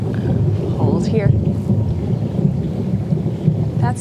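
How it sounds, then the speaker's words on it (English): Thunder from a passing storm rumbles as a low, continuous roar throughout, moderately loud and steady with a few swelling surges, while faint higher chirps and sounds break in briefly near the start and end. "That's thunder."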